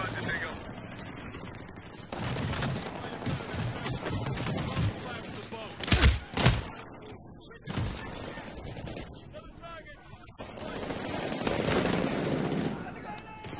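Gunfire in the video game Medal of Honor: Warfighter, with bursts of loud automatic shots and booming blasts in a campaign battle, mixed with background game noise and a voice talking.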